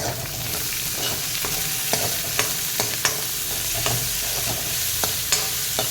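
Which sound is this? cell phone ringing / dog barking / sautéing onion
sautéing onion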